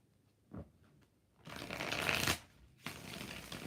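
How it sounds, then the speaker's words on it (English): Tarot cards are shuffled close up in bursts, a short riffle followed by a longer crisp flutter and another run of shuffling, loud and clear with no talking. "5 shuffles for Sage."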